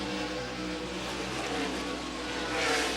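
A NASCAR race car at Watkins Glen in the 1999 Frontier race drones at steady high revs, a sustained buzzing engine note with a slight swell near the end, its driver working heel-and-toe throttle.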